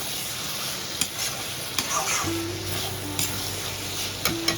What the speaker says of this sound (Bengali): দিয়ে আমি একটু নেড়ে দেবো